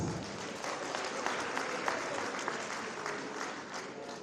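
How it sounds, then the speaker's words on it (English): Convention audience breaks into sustained applause, a dense wash of many hands clapping at steady loudness throughout with no voices over it. "Can we give ourselves a round of applause?"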